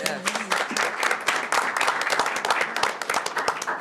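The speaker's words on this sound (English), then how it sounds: "Let's give our school counselors a round of applause." Applause for school counselors at a school district board meeting, a steady wash of many hands clapping that fills the room throughout, with some voices mixed in.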